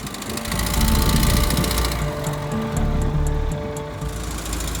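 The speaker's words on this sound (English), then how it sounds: "Tractors drag the larger parts to shore," A tractor engine runs steadily close by at a ship-breaking yard, a rumbling drone with low hum and mechanical rattle, rising slightly then holding level throughout.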